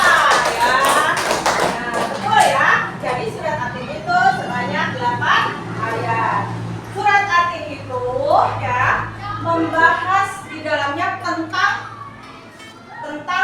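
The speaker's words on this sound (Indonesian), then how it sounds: "Bagus, tepuk tangan buat 8." Children in an Indonesian classroom clap together during a religious studies lesson, a lively burst of close, rhythmic clapping mixed with kids chattering and a teacher's voice.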